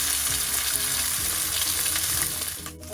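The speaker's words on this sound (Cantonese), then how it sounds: "咁我就由個雞皮嗰度煎起先嘅" A chicken breast fries skin-side down in a hot, lightly oiled wok, giving a loud, close, continuous sizzle and crackle that eases off slightly near the end, with no talking.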